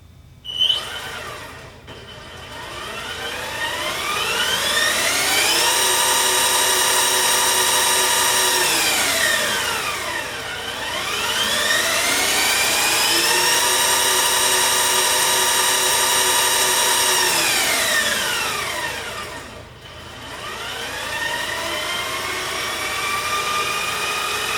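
An Outrider Horizon Tri Pin electric trike with a 2-kilowatt motor driving forward, its whining motor pitch rising, holding and falling in three smooth sweeps, close and steady.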